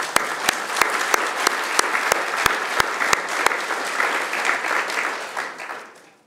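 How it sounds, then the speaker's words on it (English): Audience applause at a Cardiff University commemoration of Guru Nanak Dev Ji's 550th Gurpurab, a full crowd clapping warmly for several seconds with a few sharp claps standing out before it fades away. "I think they all deserve a big clap."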